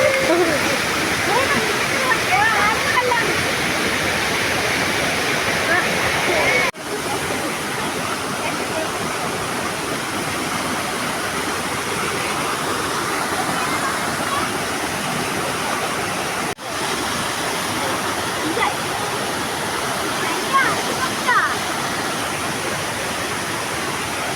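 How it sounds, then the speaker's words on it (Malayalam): Water tumbles down a small waterfall on a stream in a steady, loud rushing roar that continues throughout, with faint voices now and then. "ഇതാ നമ്മളെ തോട്ടിലെ വെള്ളച്ചാട്ടം"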